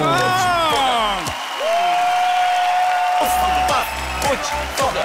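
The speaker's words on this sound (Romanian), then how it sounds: "haideți să-l primim cu aplauze puternice pe Andrei Ungureanu!" Applause from an audience welcoming comedian Andrei Ungureanu onstage at a stand-up comedy final. A sustained steady patter sits under loud music and voices calling out.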